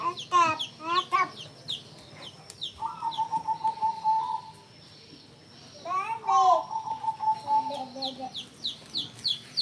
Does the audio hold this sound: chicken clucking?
yes